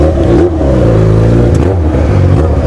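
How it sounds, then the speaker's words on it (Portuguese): A Chevrolet Camaro engine revs and accelerates at close range, a loud steady roar with rising and falling harmonic tones and no talking over it. "o Camaro é firmeza, tá acelerando"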